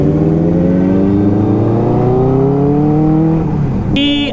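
A Kawasaki Z900 motorcycle engine revs hard and close, its loud pitch climbing steadily before it drops off at the end.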